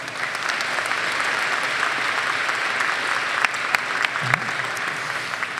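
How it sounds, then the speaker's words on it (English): Steady, dense applause fills a graduation commencement hall, a large audience clapping continuously for several seconds with a few sharper claps rising above the wash. "Please give him a round of applause."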